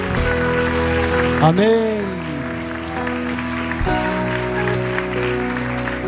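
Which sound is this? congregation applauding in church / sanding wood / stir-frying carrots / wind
congregation applauding in church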